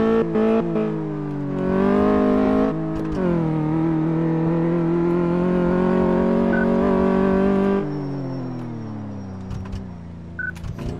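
A car in Car Mechanic Simulator is driven hard, its engine revving loud and steady with sharp rises in pitch, easing off near the end before a few faint clunks.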